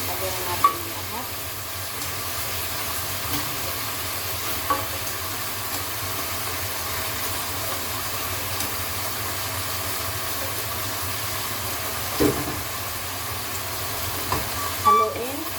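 Pork frying in a pan gives a steady broadband sizzle, with occasional soft scrapes and clinks as it is stirred, close and continuous with no talking.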